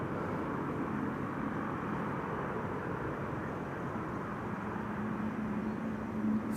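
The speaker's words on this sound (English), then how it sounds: "that's the Finnair A350 getting away from us" A Finnair Airbus A350 takes off from Amsterdam Schiphol Airport, its engines making a steady, broad roar that holds at a constant level throughout, with a faint low hum running underneath.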